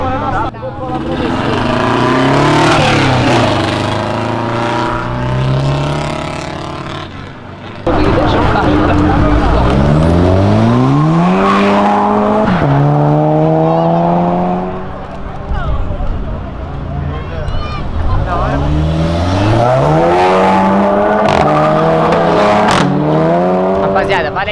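A BMW engine revs and accelerates through rising gear sweeps, loud and close, with a brief break before another climbing pull; people talk over much of the engine noise.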